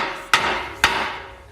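Two sharp, ringing metal hammer strikes land on a rusted Jeep CJ part, spaced about half a second apart, each decaying quickly in a quiet workshop.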